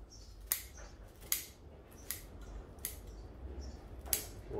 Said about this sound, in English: This is actually root scissors, because a lot of your branches in here are too fat for the